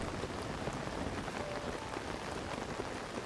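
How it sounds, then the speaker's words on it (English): Rain in the video game Tears of the Kingdom falls steadily and softly, a continuous even patter of drops with no other sounds over it. "And it's raining."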